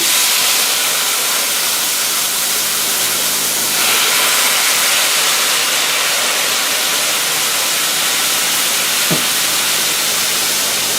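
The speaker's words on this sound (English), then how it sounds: "I'm going to go ahead and deglaze the pan with a 1/4 cup of" Brandy hitting a hot pan to deglaze it for lobster Newberg, producing a loud, continuous hissing sizzle and rush of steam that swells partway through and holds steady, with one faint knock near the end.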